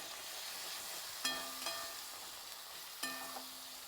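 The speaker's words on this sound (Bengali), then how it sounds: "দিয়ে ভালো করে নেড়ে নেবো।" Ground cumin and coriander with whisked sour yogurt being stirred in a hot frying pan, a steady close sizzle broken by a couple of sharp utensil clinks against the pan.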